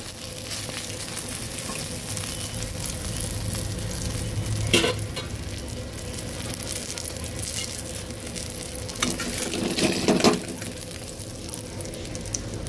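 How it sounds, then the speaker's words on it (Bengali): Aubergine (brinjal) pieces fry in a pan, a steady broadband sizzle running throughout with a few louder stirring scrapes around the middle and near the end; no voices. "আমি ঢাকা দিয়ে বেগুনগুলোকেও আলুর মতো করে ভেজে নিয়েছি।"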